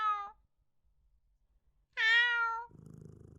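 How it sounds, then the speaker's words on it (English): Black cat meowing in the horror game Dread Neighbor, two separate close meows, a short one and then a longer one, followed by a soft purr-like rumble, with no talking. "Oh, a kitty cat."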